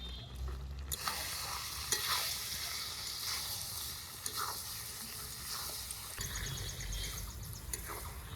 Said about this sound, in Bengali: নেড়ে চেড়ে ভালোভাবে কষিয়ে নিলাম